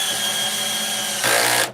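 A new compact Milwaukee M12 drill driver whirs steadily on its clutch setting, then the pitch shifts and the motor strains briefly before spinning down and cutting off, close and loud with no talking.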